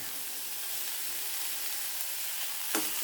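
Broad beans sauté in hot oil with turmeric, giving a steady, close, even sizzle throughout, with a brief sharp clink of a utensil near the end.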